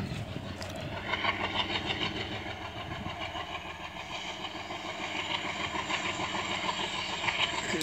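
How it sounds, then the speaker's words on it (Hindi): A train pulls out of Araria Court station in India, its engine rumbling steadily with rhythmic wheel clatter that grows through the passage, loud and close, with no voices. "ये देखिए भाई अररिया कोट स्टेशन से निकल रही है ट्रेन"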